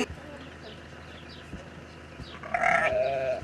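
A lamb bleats a couple of times, with a clearer, louder cry near the end, over soft outdoor rural background and faint voices.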